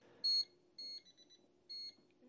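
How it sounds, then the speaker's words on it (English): A handheld voltage tester's two-level audible alarm sounds three short, high electronic beeps at a quick, even pace, clear against a quiet background. "When it detects voltage, here's what you get for an output. It's a 2-level audible alarm."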